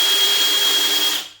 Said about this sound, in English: So you can see that the Forstner bit goes pretty slow, so I have lots of control